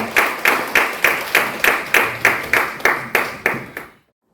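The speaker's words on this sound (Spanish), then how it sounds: "Denle un aplauso grande al que vive para siempre" A church congregation claps in steady, regular bursts, about eight strong beats in rhythm, then it stops abruptly.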